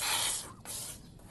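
Forceful spraying hiss of carabao milk jetting into a container, in two or three quick pulsing bursts, close and moderately loud.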